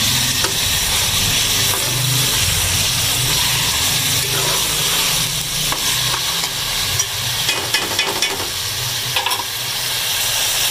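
Minced beef and onions sizzle and crackle loudly in a hot pan, with steady frying hiss and occasional stirring scrapes throughout.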